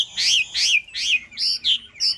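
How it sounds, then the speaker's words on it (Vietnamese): A Chinese hwamei songbird, kept caged, sings six loud, clear warbling phrases in quick succession, each a rising and falling whistle separated by brief pauses, with nothing else heard. "Để cho bác nghe giọng hót của nó nhé."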